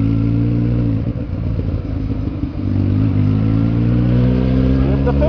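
A Kawasaki Z750 motorcycle coasting off the throttle, its engine droning steadily and dipping in the middle before settling into a smooth idle-like hum, close and loud throughout.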